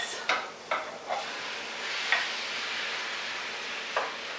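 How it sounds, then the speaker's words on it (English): Ground turkey sautes quietly in a pan, a soft continuous sizzle broken by several sharp spoon taps and scrapes as the meat is broken up. "We're going to cook these, breaking them up with the spoon, just until they lose their pink color."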